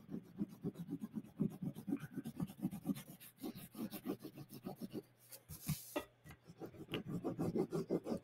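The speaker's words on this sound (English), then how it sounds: "using the tip of the crayon" A crayon tip pressed hard on paper while drawing, a close, quiet rhythmic scratching and rubbing in quick repeated strokes, with a brief pause and a couple of sharper scrapes partway through.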